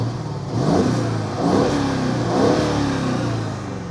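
A Mercedes E550 W212 engine running, a deep V8 rumble swelling in three quick revs before settling back, close by with no talking.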